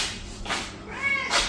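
A single short meow from a cat on a long outdoor leash, close by and clear over a soft, steady background hiss, with no talking.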